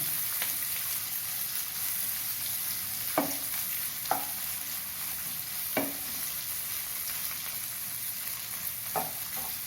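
Two chopped large onions sizzle and fry steadily in a hot pan, with a few sharp scraping stirs cutting through the constant crackle.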